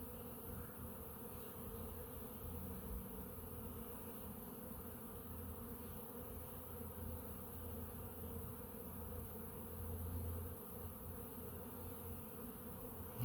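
Honey bees buzzing steadily while foraging pollen after several days of rain, a dense continuous hum of many insects close by, with no voices.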